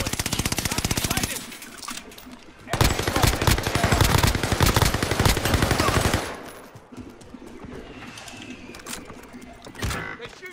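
Gunfire in a battle royale video game: rapid bursts of automatic fire, loud and dense, with a sustained heavy stretch midway and sparser shots later.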